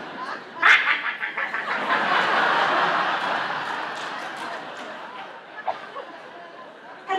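On a stand-up comedy stage, a woman imitates geese on a pond with squawky, quacking vocal bursts as broad crowd noise swells beneath.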